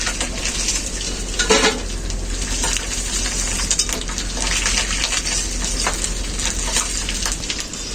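Fried fish heads break apart under a spatula in a pan, with repeated metallic clanks and scrapes over a steady sizzle of oil, loud and close, no talking.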